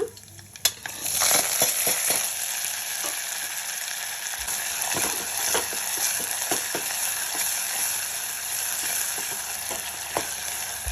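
Curry leaves, coriander, green chilli and ginger frying in hot oil for a vegetable upma, giving a steady close sizzle with a few sharp crackles and stirring clicks throughout.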